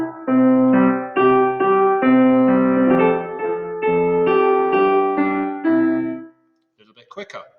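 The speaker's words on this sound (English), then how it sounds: "A medium piece of music might sound like this." A medium-tempo musical excerpt plays loud and steady for about six seconds as a sequence of sustained melodic notes, then cuts off, and a voice briefly speaks afterward.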